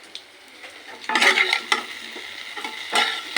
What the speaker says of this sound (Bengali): শুকনো লঙ্কা দিয়ে দিলাম একটু সর্ষে ফোড়ন দিলাম